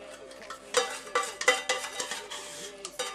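A spoon scrapes and clinks against a bowl in a quick series of strokes stirring a pastry cream mixture for mille-feuille, with soft liquid swishing in between.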